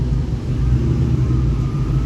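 A fire red 1999–2004 New Edge Mustang GT rumbles past at a car meet, a steady low engine drone heard from nearby with no talk over it.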